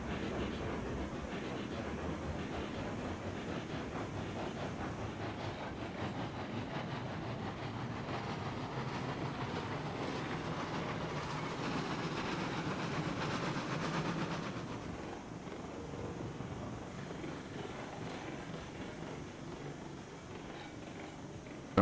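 A train in the game Railroads Online rumbles steadily with a low, continuous rolling drone and faint rhythmic clatter, easing slightly quieter partway through.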